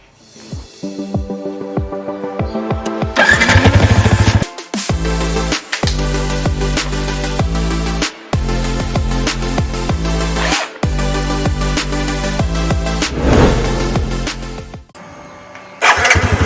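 Yamaha PG1 motorcycle engine with a check-engine warning: cranking and firing up, then a loud steady running idle with a strong low throb and harmonic hum, cut by brief drops and revs, no talking.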